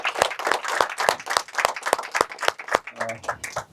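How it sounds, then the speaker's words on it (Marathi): Audience applause welcomes a guest at a Meet with Crorepati programme session, a close, steady run of rhythmic clapping, with a voice cutting in near the end. "पाहुण्यांबद्दल वाटतंय जरा जोरात टाळ्या अजून झालं तर बरं"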